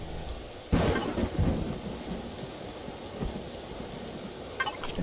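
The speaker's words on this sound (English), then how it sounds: "Now it's raining." Rain and a thunderclap in the video game Empyrion, a sudden rumbling boom near the start fading into a steady patter of rain on surfaces, with a faint distant rumble later.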